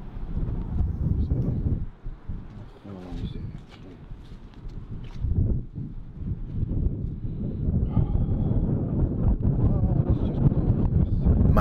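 Winter night wind gusting outdoors near a church, a steady roaring rush that swells and buffets the microphone throughout.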